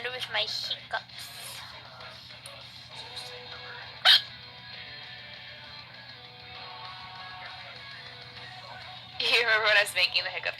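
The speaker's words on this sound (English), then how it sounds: "I'll conquer the land with my hiccups." A woman streaming live gives a few sharp hiccups between stretches of her own chatter, brief catches standing out near the microphone against a quiet room hum.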